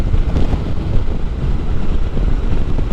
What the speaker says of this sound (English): the wind's got nothing to stop it, it just blows its guts out